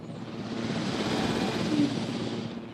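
Steady engine drone of a helicopter in the video game Jurassic World: Evolution, a continuous mid-loud rumble swelling slightly and then easing off.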